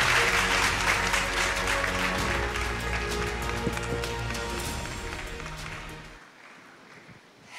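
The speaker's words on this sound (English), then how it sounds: "With a resounding round of applause, welcome Catherine Krobo Edusei." A hall audience at a Christian gathering gives a resounding round of applause to welcome a speaker, dense and sustained, fading toward the end with a low musical hum underneath before cutting off.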